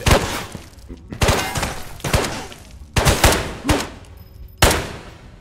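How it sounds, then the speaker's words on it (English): Gunfire from a one-handed gun in the VR shooter Ghosts of Tabor: loud, close bursts of rapid shots in about six clusters, each with a sharp attack and a short echoing tail. "The recoil on this is so manageable, I can shoot it with one hand over my arm and kill the guy."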